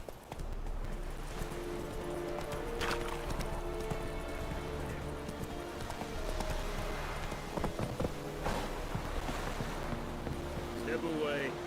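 Horse hooves trot with a steady clip-clop in The Witcher 3, the rhythmic beats running for several seconds under game music and sparse character voices.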